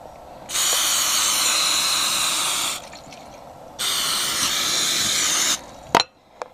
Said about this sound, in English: I'm just going to spray the pan with this butter flavored cooking spray.